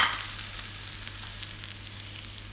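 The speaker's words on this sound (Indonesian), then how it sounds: "jadi tinggal disiram aja minyak yang panas-panas." Hot oil poured over chili sambal for geprek chicken crackles and sizzles, a bright, hissing fizz that starts sharply and settles into steady, close crackling, with no voices.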